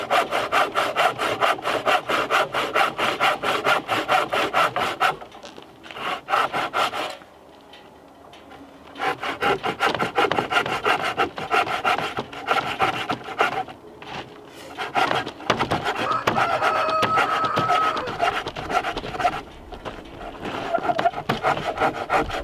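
A rusty hand saw cuts through a wooden roof rafter for a cabin roof in Alaska, its steady back-and-forth rasping strokes loud and close, pausing briefly twice before resuming to finish the cut.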